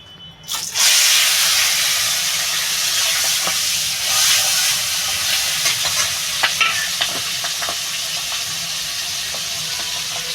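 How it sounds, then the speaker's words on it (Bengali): Fish air bladder fries in hot oil for a Bengali dish with eggplant. A loud, steady sizzle bursts in after a quiet start and keeps going without a break, with faint clinks of stirring. "আমার তেলটা গরম হয়ে গেছে আমি মাছের পোটকাটা এবার ঢেলে দেবো"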